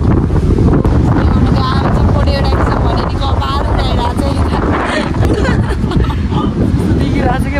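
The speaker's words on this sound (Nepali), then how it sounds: "हामी सिमपानीमा छौँ यहाँ हावाले के भइरहेछ" Strong wind on the hilltop at Simpani in Dolakha roars and buffets the microphone loudly and without a break, with voices partly buried beneath it.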